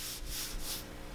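A steady abrasive rubbing hiss of a DA sander working a car body panel, with soft rhythmic surges in intensity, close and continuous.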